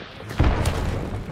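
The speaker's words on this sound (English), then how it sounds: "I'm throwing a frag just because I can" A frag grenade detonating in a video game: a single dull, booming blast with a low thud that rolls off into a short rumbling tail.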